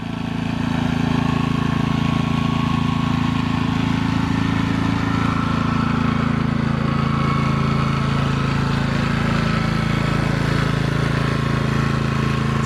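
A Power Smart 4400W inverter generator runs at a steady drone from about 20 feet away on its exhaust side, an even, continuous engine hum with no change in pitch or level.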